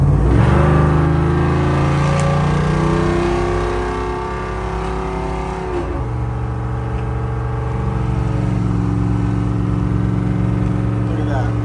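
A 1978 Ford Bronco XLT Ranger with a swapped Ford Coyote V8 cruises at nearly 60 mph on a two-lane mountain back road, with a steady loud engine drone that rises and falls through gear changes.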